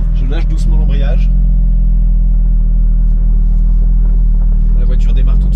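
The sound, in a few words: Porsche 718 Boxster GTS 4.0 flat-six intake noise pulling away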